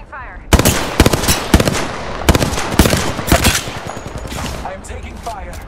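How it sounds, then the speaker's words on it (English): Rapid automatic gunfire rattles in loud bursts in a video game, with bullets cracking in quick volleys over several seconds. The fire tapers off toward the end. "Opening fire."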